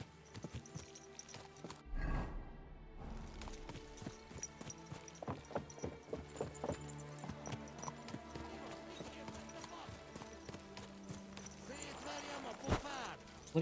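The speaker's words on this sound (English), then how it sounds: "Easy, good horse." Horse hooves clip-clop steadily through a Final Fantasy XIV game scene, a continuous rhythmic patter mixed with game music and other effects, with a voice talking over it.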